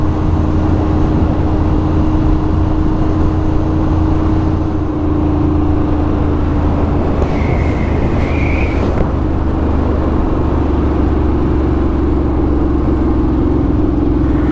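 A Harley-Davidson Sportster S motorcycle rides along a road, carrying a passenger, its loud steady engine rumble and heavy wind roar filling the whole stretch, with a brief higher whine midway and no talk.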